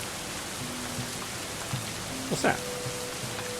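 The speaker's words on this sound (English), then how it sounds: "No, it's raining." Steady rain in the video game Going Medieval, a constant broadband hiss of falling drops throughout, with a brief voice speaking partway through.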